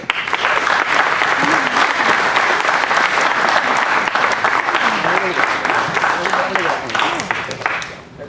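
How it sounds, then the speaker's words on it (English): A crowd at a Tae Kwon Do black belt award ceremony claps for a recipient, sustained loud applause lasting several seconds with voices mixed in beneath, tapering slightly at the end. "Let's clap for Vivek Samasundaram."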